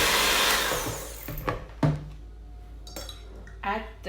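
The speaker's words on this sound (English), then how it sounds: "but first I'm gonna beat the egg" Egg being beaten in a bowl for a chocolate cake batter, with a brisk clatter of utensil against the dish, a few sharp clinks and scrapes standing out near and clear, no talk.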